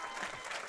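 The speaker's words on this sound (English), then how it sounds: "Sorry, I'm clapping." A commentator's hands clapping at a junior bowling championship final, a short burst of soft, quick claps in a roomy space.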